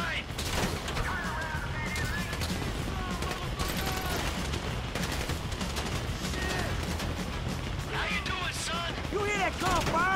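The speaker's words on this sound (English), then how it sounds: "That gunfire?" Gunfire in the video game GTA 5 crackles in dense, rapid bursts throughout, mixed with mechanical clatter and scattered shouting voices.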